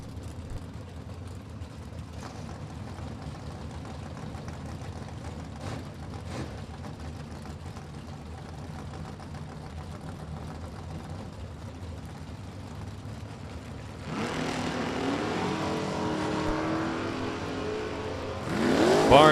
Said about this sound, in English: Barnes wheeling at 1972, Datsun 510.